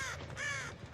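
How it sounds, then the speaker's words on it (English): Crows in a video game giving a couple of harsh, close caws in quick succession as they take flight. "this is where I saw the crows fly up"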